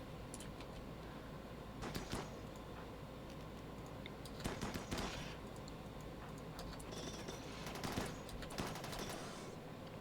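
Video game gunfire cracks in short, scattered volleys at mid-distance over a steady, dense background of game ambience, rising into a few louder clusters.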